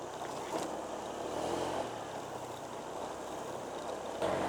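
Motorcycle ride on a cool mountain road in Bungabon, Nueva Ecija, a continuous low engine drone blended with heavy wind rush, steady and close throughout.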